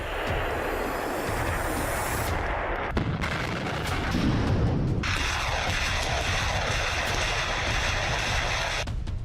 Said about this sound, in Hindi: उरागन मल्टीपल रॉकेट सिस्टम से रॉकेट्स दागे जा रहे हैं।